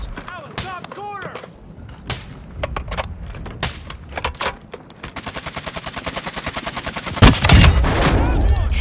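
Rapid bursts of automatic gunfire in an online battle-royale shooter, close and loud, with sharp single shots early on, a long steady rattling volley midway and a heavy blast near the end, while players talk over it.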